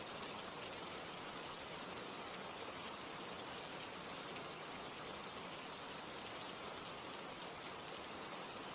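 Steady rain falls evenly in a soft, continuous patter that stays faint and unchanging, with no voices.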